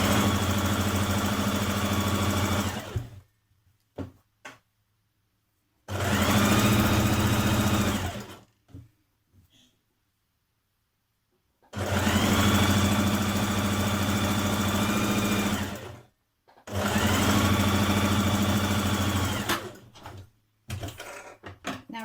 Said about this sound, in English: And stitch down that side seam.